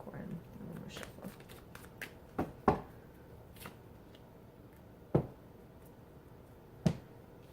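Tarot cards riffle and slap softly in short bursts, with a few sharper snaps as the deck is shuffled, close and fairly quiet with pauses between.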